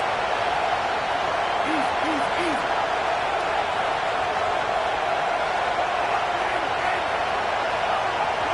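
A packed football stadium crowd roars continuously during an Oregon Ducks game, a dense, loud sustained wall of noise from start to finish, with a brief voice barely rising above it.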